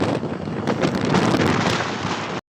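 Strong wind roars across the microphone in a dense, buffeting rush that stops abruptly, at a roadside bicycle criterium race in San Roque, Northern Samar.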